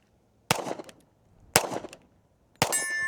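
Three sharp pistol shots from a Smith & Wesson M&P Shield 45, about a second apart, each a loud crack with a short ringing tail and no talking.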